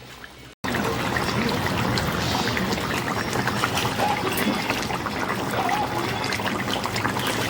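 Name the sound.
silver cup fish curry simmering in the pan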